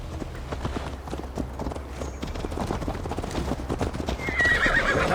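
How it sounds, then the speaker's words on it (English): In the video game Assassin's Creed Valhalla, a horse clip-clops at a steady gallop through a continuous mid-level rumble of hoofbeats, and a neigh rises near the end. "Mount up, Eivor. It's a long ride to Tamworth"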